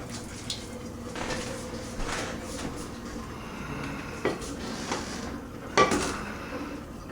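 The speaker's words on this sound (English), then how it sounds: "we're going to dump the spaghetti into a big bowl" Cooked spaghetti tipped from a pot into a big bowl in a kitchen, with a few soft wet clatters and light knocks of cookware, quiet and spread out.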